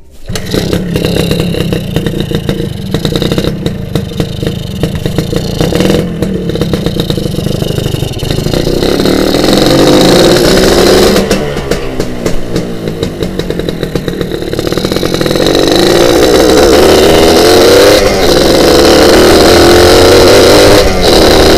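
A Suzuki Satria two-stroke motorcycle, stripped of its bodywork and in rough condition, revs hard on a test ride with a raspy, buzzing engine note that rises and falls steadily and stays loud throughout, with no talking.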